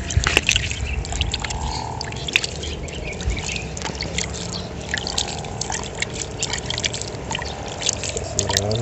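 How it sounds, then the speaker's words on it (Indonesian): Water trickles and splashes steadily onto the soil of a newly planted fig, with small drips and a few sharp taps scattered through the continuous pouring. "Kita siram sedikit-sedikit ya pakai air."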